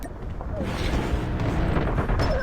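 Gunfire in the mobile shooter game Call of Duty Mobile, fired from an HG-40 in a ranked match, comes as dense, sustained bursts with booming impacts throughout, with someone talking over it.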